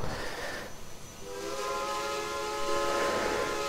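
Texas State Railroad 2-8-2 steam locomotive #400 in the Trainz 2019 simulator sounds a long, sustained chime-like steam whistle over a constant rushing background, loud and alone.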